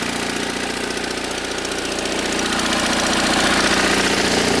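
A generator engine running steadily under load from a load bank, a continuous close, loud, throbbing chug with mechanical vibration that holds level and grows slightly louder toward the end.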